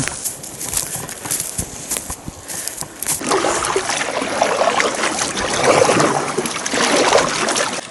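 Water sloshes and gurgles steadily as a boat pushes through a swamp, growing louder and denser after the first few seconds, with no voices.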